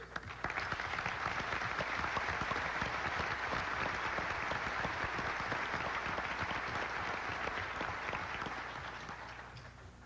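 An audience at a groundbreaking ceremony applauds members of the General Assembly, the clapping dense and sustained for about ten seconds before tapering off slightly at the end.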